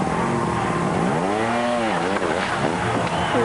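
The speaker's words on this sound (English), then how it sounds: "Those Michelin tyres scrabbling for grip." A trials motorcycle on Michelin tyres scrabbles for grip at an indoor trial, the engine rising and falling in quick revving sweeps against a loud arena background.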